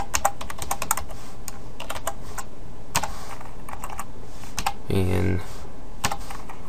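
Code is typed on a computer keyboard, a close, brisk patter of key clicks in uneven bursts with pauses between, and a brief spoken word breaks in partway through.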